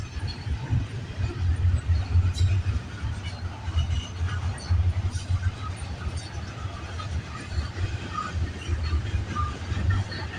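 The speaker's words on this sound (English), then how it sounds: "How long is this train? Holy crap, he's a big load of containers." CN container freight train rolling past in Vaughan, Ontario, picking up speed, a steady loud low rumble with wheel clatter throughout, someone talking over it.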